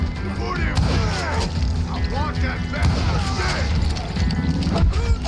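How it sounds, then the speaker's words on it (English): Creeping artillery barrage in a video game, a steady run of dull booms and crashing impacts under dense battle noise, with someone talking over it. "Gotta work on my trajectory and get myself a nice creeping barrage"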